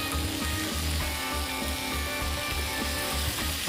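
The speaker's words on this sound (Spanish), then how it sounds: "mirá el jamón crudo cómo se tuesta en la plancha" Cured ham sizzles steadily on a hot griddle beside brochettes, a close, continuous crackling fry with a regular pulsing rhythm and no voices.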